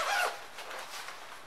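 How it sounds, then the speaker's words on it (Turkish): A zipper closing on a motorcycle jacket, one quick rasping pull near the mic followed by quieter fabric rustle. "Fermuarla kapanıyor."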